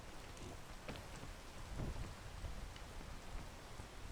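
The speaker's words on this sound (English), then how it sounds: "Not with the rain." Rain falls steadily in the video game PEAK, a faint, even hiss of dense drops with a soft low rumble swelling briefly partway through, and no voices.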